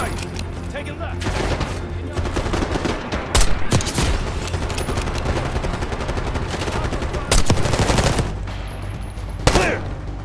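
Dense automatic gunfire in the video game Call of Duty: Black Ops 6, sustained rapid bursts with a few heavier bangs, loud and continuous, with voices shouting over the fighting.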